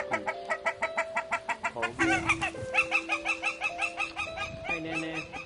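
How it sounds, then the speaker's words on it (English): Wild Hawaiian goose (nene) calling in a yard, a rapid run of loud, nasal, rhythmic honking notes close by, with a single spoken word briefly over it. "This is the wild Hawaiian goose."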